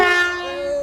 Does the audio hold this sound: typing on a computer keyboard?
no